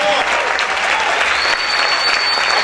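Sustained applause from a church congregation, many hands clapping in a thick continuous wash, with a faint tonal whistle or feedback line and scattered voices underneath.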